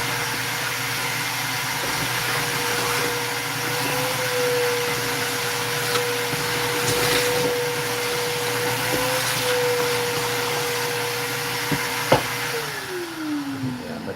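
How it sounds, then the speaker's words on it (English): A vacuum cleaner runs steadily and up close with a constant motor whine, cleaning up body filler debris, then spins down near the end. "Let me vacuum up here."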